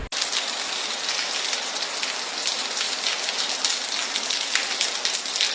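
Steady, dense rain pours down in a Filipino cartoon scene, a constant close hiss of drops on surfaces with no pauses and no voices.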